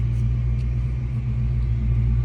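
A 1988 Ford Mustang Foxbody GT engine idles steadily nearby, a deep, even rumble with a constant low throb and no revving or talk.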